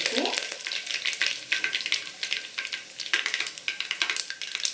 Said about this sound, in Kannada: ಸಾಸಿವೆ ಚಿಟ ಚಿಟ ಅಂತಿದ್ದೆ